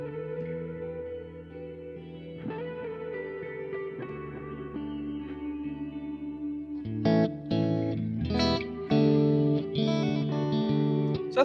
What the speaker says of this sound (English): So that's kind of a nice soft reverb.